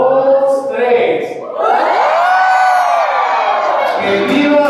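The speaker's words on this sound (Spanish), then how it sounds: "Quiero que se echen un grito de júbilo." A crowd at a street novena celebration for Santa Rita de Casia lets out a loud, sustained shout and cheer of jubilation, many voices whooping together close by.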